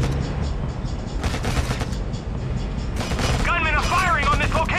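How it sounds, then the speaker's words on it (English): Gunfire and booming shots sound in Act of War: Direct Action on PC as a military squad comes under attack, dense loud bursts mixed with radio chatter and voices, with a warbling alarm-like tone near the end. "Gunmen are firing on this location."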